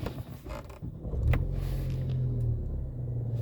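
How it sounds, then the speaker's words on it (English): A 2013 Ford Focus ST-3 estate with a 2.0-litre turbocharged EcoBoost petrol engine (247 bhp, six-speed manual) cranks briefly and catches, then settles into a steady, close, low idle rumble with no voices. "So I'm going to start this vehicle."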